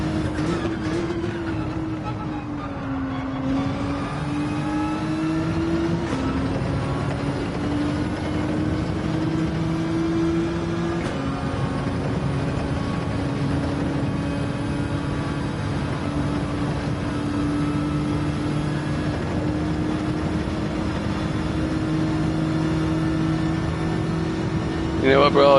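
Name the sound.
Acura NSX race car engine in sim racing video game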